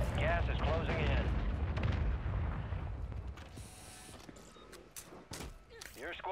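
Mortar strike explosions in Call of Duty: Warzone land as deep, rumbling booms that roll on and fade, then come several sharper cracks and mechanical clatter, with voices speaking over part of it.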